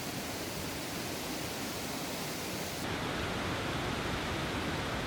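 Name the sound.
Rotefossen twin waterfall in Norway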